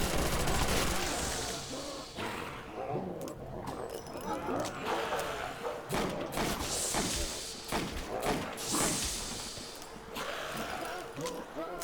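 Magnum revolver gunfire in a video game, heavy single shots and thuds fired in irregular bursts amid dense game noise, with someone talking over it.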